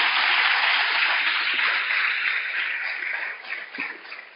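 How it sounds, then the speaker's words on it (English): An audience at a Texas debate finals claps for alumni and debaters, a soft, blurred ovation that starts full and thins gradually, with a few scattered louder claps near the end. "Let's give everybody a big round of applause."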